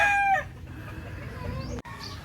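A large stag rooster crows briefly at the very start, a short, fairly close call that cuts off quickly into quiet farmyard background.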